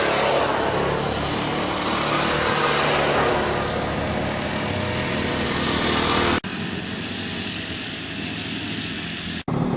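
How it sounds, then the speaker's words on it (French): Quad bikes drone loudly and continuously on a dirt trail on Djerba, a steady buzzing engine roar with brief cuts, no speech heard. "ça c'est les quads qui viennent nous emmerder avec du bruit."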